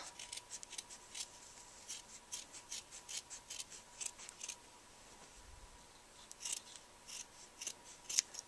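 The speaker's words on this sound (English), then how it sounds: "I'm going to go ahead and cut it out as tight to the shape as possible" Scissors cut out a handmade art mask close to its shape, snipping in a steady, quiet series of short crisp cuts with brief pauses between them. No one speaks.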